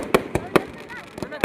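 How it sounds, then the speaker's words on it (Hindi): Fireworks explode at a Dussehra (Vijayadashami) festival display in Barmer, a string of about seven sharp, loud bangs at uneven intervals over a crowd's background murmur. "देखिए बहुत शानदार आतिशबाजी"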